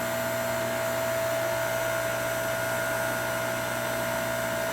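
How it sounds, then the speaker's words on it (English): An 8 ton hydraulic log splitter's motor runs while pressurizing, a loud, constant electric hum with a steady whine that holds unbroken from start to finish. "That's the motor pressurizing everything."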